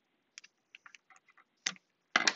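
Household scissors trimming excess rubber strip on a Thule roof rack: a series of small, crisp snips and clicks close up, growing into two louder, sharper cuts near the end, with silence between.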